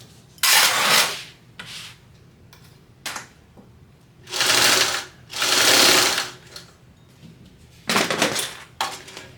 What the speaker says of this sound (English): now we're going to sew around the side, the bottom, and up the other side